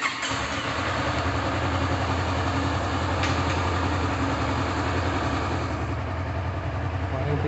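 A 2014 Honda CBR500R motorcycle idles close by in a dealership, its engine running smoothly and evenly at a steady low throb for several seconds.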